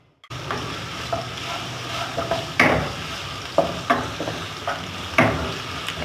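Garlic frying in hot oil in a wok gives a steady, close sizzle, broken by several sharp scrapes and clicks of stirring.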